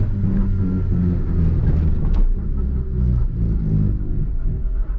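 A 1991 Honda Civic, revved to about 3000 RPM and then let off, gives a steady low engine rumble that falls away on deceleration, with a brief odd noise midway. No voices.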